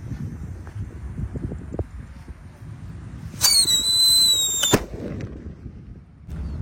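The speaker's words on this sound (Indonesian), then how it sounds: "Lanjut di sini ada Whistling Thunder bosku. Kita lihat reaksinya ya. Sudah menyala guys." A Whistling Thunder firecracker, lit at an Eid al-Adha takbiran night celebration, lets out a loud shrill whistle lasting just over a second that ends abruptly in a bang, over a low rumbling outdoor background.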